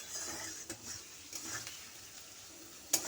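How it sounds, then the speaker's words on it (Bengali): Onion softening in a pan over low to medium heat gives a faint, steady sizzle, with a few soft stirring knocks and one sharper clink near the end. "এটা লো টু মিডিয়ামে একটু পেঁয়াজটা আমি নরম করে নিচ্ছি"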